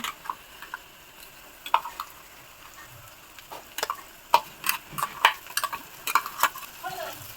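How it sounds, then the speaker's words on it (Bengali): Chili and cumin paste fries in a pan with browned onions under a faint sizzle, as a utensil stirs and taps against the pan in sharp, irregular scrapes and clicks. "এবার দিয়ে দিচ্ছি লঙ্কা আর জিরে বাটা"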